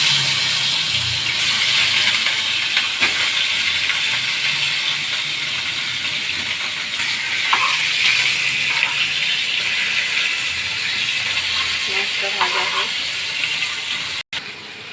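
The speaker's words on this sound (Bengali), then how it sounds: "নুন হলুদ দিয়ে মাছটাকে মেখে রাখছি, তেল গরম হচ্ছে, ভাজতে দিচ্ছি।" Steady hissing sizzle of turmeric- and salt-rubbed fish frying in hot oil, broad and constant throughout, with a few faint background clinks.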